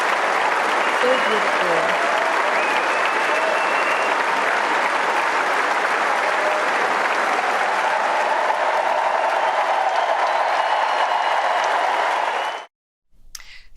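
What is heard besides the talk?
warm applause for Princess Catherine at Wimbledon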